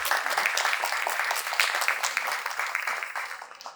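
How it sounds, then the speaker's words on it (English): An audience at a film festival press conference claps for a guest called to the stage, a fairly quiet, busy patter of hands that continues evenly without talk. "Mr. Ajay Bijli, a round of applause for him, please."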